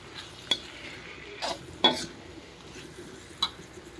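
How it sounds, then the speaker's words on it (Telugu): Eggplant and tomato curry being stirred in a pan, a few short scraping clinks of the spoon over a faint sizzle, quiet and close. "ఇప్పుడు మంచిగా మిక్స్ చేయాలి."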